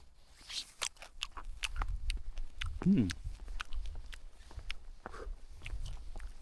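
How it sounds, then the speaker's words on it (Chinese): Soft, irregular chewing and biting crunches of a hard, seedy wild fruit close to the mic, quiet, with faint rustling in the background. "而且它这个籽儿越嚼越香。"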